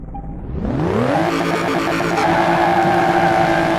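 A barn-find BMW E46 M3 GTR engine revs hard in the video game Car Mechanic Simulator 2018, climbing loudly in pitch as it accelerates, then holding a sustained high-revving roar.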